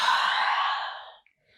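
A single long, airy exhale during a Kundalini breathing practice, fairly close and steady for about a second before trailing off into near silence, alone with no talk.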